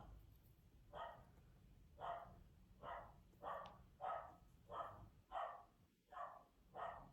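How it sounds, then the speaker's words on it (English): Dogs bark indoors in a steady series of about nine evenly spaced woofs, muffled and fairly faint, as if from another room. "I apologize for my dogs."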